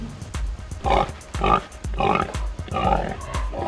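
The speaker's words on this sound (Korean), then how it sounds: "뭔가 돼지 울음소리가 들려온다" A piglet on Bonito Island in the Philippines squeals and grunts in a rapid series of loud, close calls with short pauses between them, and no voices are present.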